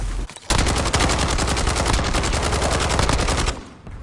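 Rapid automatic gunfire in a video game on a console livestream, a loud, sustained burst of closely spaced shots lasting about three seconds before cutting off abruptly.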